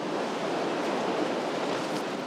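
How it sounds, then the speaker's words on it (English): Strong gust of winter wind in the Appalachian Mountains buffeting a tent, a loud continuous rushing roar that stays steady and close for the whole stretch. "every time a huge gust of wind would come through, just like that one"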